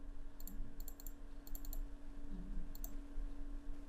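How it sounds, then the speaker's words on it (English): Mouse clicks on a computer while working in Google Sheets, several quick paired clicks at intervals over a steady low background hum, fairly faint and close. "Now mouse double click, then show the calendar."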